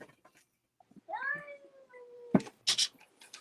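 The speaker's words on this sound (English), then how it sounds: "Do I hear kitty? Was that a cat?" A house cat gives one clear, drawn-out meow indoors, fairly close, followed by brief bumps and noises.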